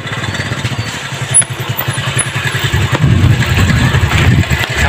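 A motorbike engine runs loudly and steadily up close on a rural island road at Nijhum Dwip, revving and idling with a rough, continuous throb.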